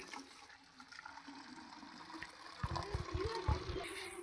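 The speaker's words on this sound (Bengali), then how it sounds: "এক হাতে গাছে জল দিচ্ছি" Rooftop garden plants being watered by hand, a low background murmur first, then water splashing and gurgling onto the soil and leaves, close by.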